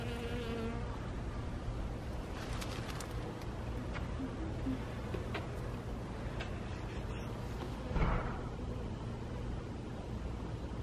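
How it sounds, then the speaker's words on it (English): Bees buzz steadily around a long row of blooming rosemary, a close, continuous insect drone with individual bees passing near the microphone, one swelling loudly near the end. "Look, all the bees having a heyday."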